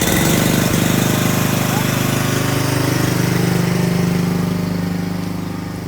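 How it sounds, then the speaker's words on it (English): A diesel engine on a steerable step deck trailer starts up and runs at a steady, loud rumble close by, easing slightly quieter toward the end. "So we're going to start this engine."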